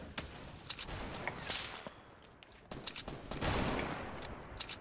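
Fortnite gunfire, several sharp cracking shots scattered in quick bursts and single reports, fairly loud and close, with no talking over them.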